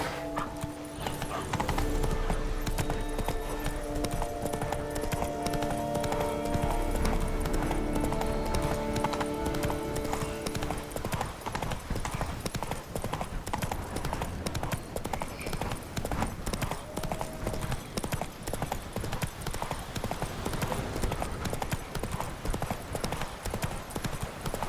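Horse hooves galloping in the fantasy video game The Witcher 3: Blood and Wine, a brisk continuous clip-clop rhythm throughout, with game music at first and a brief voice.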